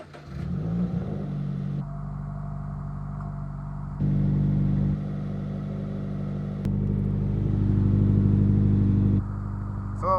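A Subaru BRZ with a resonator delete and muffler delete starts up and settles into a loud, steady idle, its low exhaust drone rising briefly in a few stepped blips before holding at a raised rumble.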